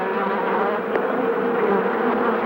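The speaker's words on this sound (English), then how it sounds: "500 bees or so have already come out." A dense swarm of killer bees buzzes loudly and steadily, a close, continuous droning hum with no voices.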